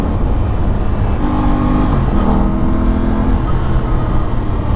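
A new motorcycle's engine revving hard as the rider shifts up through the gears, a loud, steady drone that rises and dips with each change, close by and with no talking.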